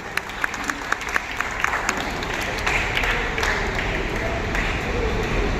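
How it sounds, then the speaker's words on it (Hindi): An audience at a notebook distribution event claps to welcome a foundation chairman, a few sharp early claps swelling into broad, steady applause with voices and murmurs mixed in. "तालियां बजा के उनका इस्तेकबाल करें"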